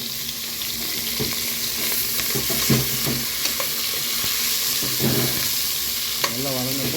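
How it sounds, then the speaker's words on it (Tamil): Onions frying with curry leaves and green chili in a pan for a country chicken curry, a continuous close sizzle broken by occasional scraping stirs, no voices. "வெங்காயம் நல்லா வதங்கட்டும்"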